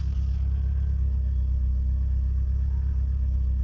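A tuned Opel Astra F 1.6 with a stage 1 cam, piggyback ECU and new rockers idles steadily up close, a low even rumble with no talk over it.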